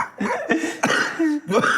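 A few short, harsh coughs in quick succession, close to the microphone, with brief pauses between bursts.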